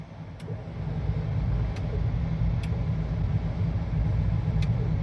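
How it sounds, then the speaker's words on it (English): A Hummer H2 engine idles in neutral during a front winch pull, a steady low rumble throughout with a few faint high ticks over it. "So I've got the vehicle running"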